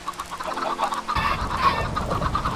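Hens clucking nearby in a busy, irregular chatter, joined partway through by a louder rustling, low background rumble.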